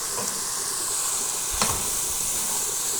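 Hadia koi fish from Bangladesh dropped into hot oil, giving a steady, bright sizzle that holds throughout, with a brief crackling burst near the middle.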